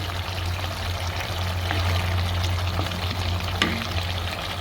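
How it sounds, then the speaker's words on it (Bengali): Broth pours steadily into a Noakhali-style curry of mrigal fish and radish, a continuous close trickle over a low simmering sizzle, with no voices. "একটু ঝোল দিয়ে দিব এখন।"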